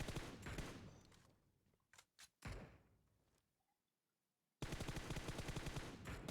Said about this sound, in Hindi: तो यहाँ पे बंदे फायरिंग वारिंग चल रहा है